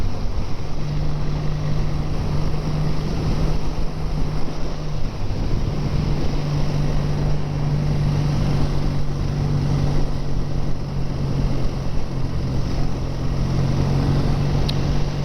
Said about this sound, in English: we've all got virtually the same exhaust systems on, but they all sound different, slightly different tones